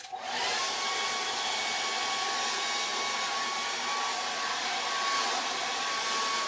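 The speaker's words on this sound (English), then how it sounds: "just the air dryer." A hair dryer blows steadily and loudly, drying acrylic paint on a charcoal and acrylic figure study, a constant close whooshing airflow with a faint whine, alone without talk.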